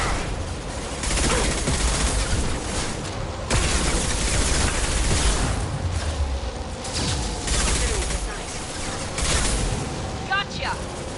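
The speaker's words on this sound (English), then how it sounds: "Watch out, flashbang!" Gunfire and a flashbang blast in the video game Mass Effect 2 form a dense, continuous fusillade of rapid shots and bursts, loud and close, with voices talking over the combat.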